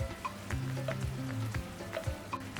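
Chicken liver adobo with vinegar simmering and sizzling steadily in a pan, a close, continuous bubbling crackle with no voices.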